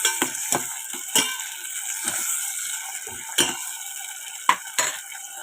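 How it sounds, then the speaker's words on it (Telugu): A spoon stirs tomatoes into hot tempering in a pan for an amaranth and tomato curry, making a dozen or so close, sharp scrapes and clinks against the metal at an uneven pace. "తాలింపు అంతా కలిసే విధంగా కలుస్తున్నాను."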